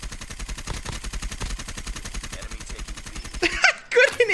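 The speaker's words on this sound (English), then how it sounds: "I kinda like the sound of the bison." Rapid automatic fire from a PP Bizon submachine gun in a ranked multiplayer shooter, a long steady burst of close, evenly spaced shots that stops abruptly, followed by brief clattering game sounds.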